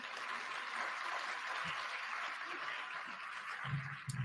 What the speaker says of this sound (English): Another warm applause for the CEO Kenya.